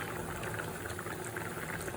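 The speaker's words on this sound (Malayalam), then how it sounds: "അപ്പോൾ കറി ഏകദേശം തിളച്ചു." Prawn curry made with coconut milk bubbles in a pot, giving a soft, steady, continuous simmering and popping hiss with no talk over it.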